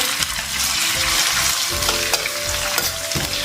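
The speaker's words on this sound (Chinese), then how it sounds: "先倒油，油热时下点葱姜干辣椒，炝香以后下五花肉" Pork belly stir-frying in hot oil with scallion, ginger and dried chilies: loud, bright sizzling throughout, punctuated by repeated scraping and clanking strokes of a spatula against the wok.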